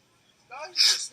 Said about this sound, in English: you just sneeze on my neck?